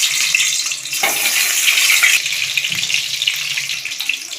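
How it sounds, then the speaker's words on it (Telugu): Eggs fry in oil in a pan for egg biryani, giving a loud, continuous sizzle and crackle with bright hissing throughout. A sharp burst near the middle flares briefly, and no voices are heard. "తరువాత ఇదే ఆయిల్లో ఎగ్స్ వేసుకొని ఫ్రై చేసుకోవాలి"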